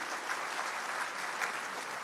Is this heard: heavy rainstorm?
no